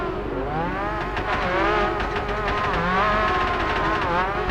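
A car held at full throttle in Project Gotham Racing 4 screams with a loud, high-revving engine whine, its pitch wavering and climbing through gear changes, close and continuous with no talking.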